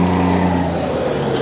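Loud, close rumbling drone of a noisy city bus passing on a street in Khon Kaen, Thailand, a steady low engine roar that fades slightly toward the end.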